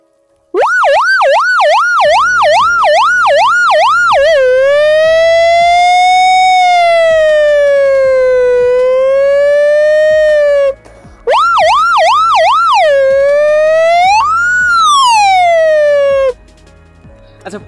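A human voice imitates a police car siren, loud and close: a fast rising-and-falling yelp, then a long slow wail, a short break, and the yelping and wailing again.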